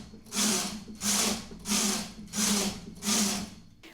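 A knitting machine knitting rows of lace fabric, the carriage sliding across in five even rushing sweeps, each a loud whooshing clatter separated by brief pauses.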